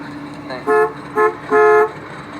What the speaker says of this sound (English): Could you honk your horn for me?